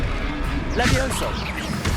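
A Levioso spell cast in Hogwarts Legacy during a troll fight in Hogsmeade bursts out mid-moment as a brief whooshing magical flare, layered under a shouting voice and battle din.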